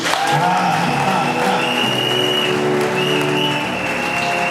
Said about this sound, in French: On acclame encore Jésus.